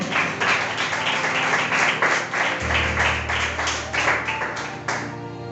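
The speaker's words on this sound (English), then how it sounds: "Andrea, please, claps for everyone who passes here." Audience applause at a FundaUC interactive event, a dense steady wash of many hands clapping at close range for several seconds, with a low hum joining partway through.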